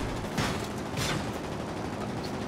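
Gunfire in World of Warplanes, aimed at a Bf 110 C-6 fighter in flight, rattles as a steady dense barrage over constant engine and wind noise, with two brief louder bursts.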